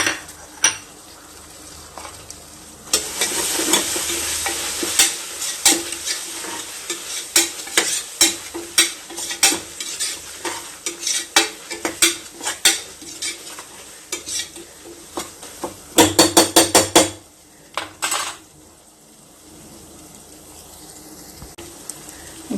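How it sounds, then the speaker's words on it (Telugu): Ginger garlic paste sizzles in a pan with coriander for a mutton curry, stirred steadily with a utensil that clicks and scrapes against the pot in a rapid rhythm, busiest near the middle, with no talking. "అల్లం వెల్లుల్లి పేస్ట్ వేగింది కదా,"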